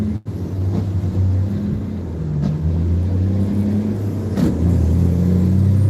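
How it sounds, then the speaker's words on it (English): A truck passes close by outside with a steady, loud low engine rumble and drone that swells slightly toward the end, with no talking. "that's a truck next to me"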